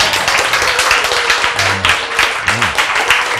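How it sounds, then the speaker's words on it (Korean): A church congregation claps hands together in a steady, loud, rhythmic run of close claps, with a few brief voices underneath. "박수를 잘 치는 사람이야."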